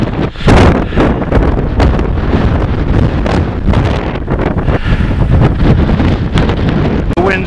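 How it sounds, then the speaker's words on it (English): Strong wind buffets the microphone on an open hilltop near the summit, a loud, continuous roaring rush with gusty surges throughout and no break. "The wind's really picked up now here, pretty open."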